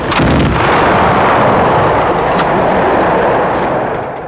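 Heavy artillery guns firing during the war in Croatia, a loud, continuous roar of booming blasts that fills the whole clip with no speech.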